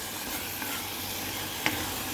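Chicken kaldereta stew with pineapple being stirred in a pot, a soft continuous simmer-sizzle with a single sharp utensil clink near the end.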